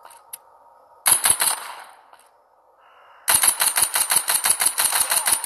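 Gunfire in the mobile game The Walking Zombie 2: Zombie Shooter: a brief volley of sharp shots, a pause, then a long rapid automatic burst of evenly spaced cracks, loud and close, with no talking.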